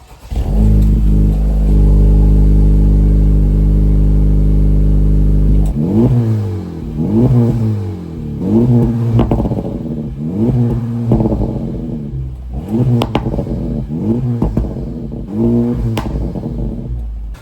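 A Honda Type R engine idles steadily with a deep throaty drone through JDM Blitz exhaust tips, then revs sharply several times in quick bursts, each rise and fall loud and close.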